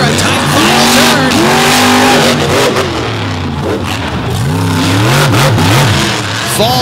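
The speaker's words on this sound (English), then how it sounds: "That was a good monster truck race between those two." Monster trucks race through tight turns in Brooksville, loud engines rising and falling in repeated revs with tire squeal and skidding, while a commentator talks over them.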